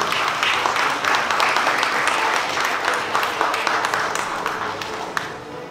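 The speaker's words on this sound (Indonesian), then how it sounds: "Dona dan berikutnya kepada Dr. Gegerianto, kita berikan aplaus semuanya." Audience applause at an academic oration event, sustained dense clapping from a crowd filling the room, steady and moderately loud before tapering off.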